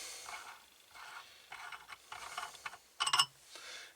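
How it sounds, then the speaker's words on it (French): Part of a motorcycle fork on a BMW R90S is unscrewed, rhythmic metallic rasping and ratcheting strokes ending in a short burst of sharper clicks, close and moderately quiet. "Hop, toute cette partie-là se dévisse."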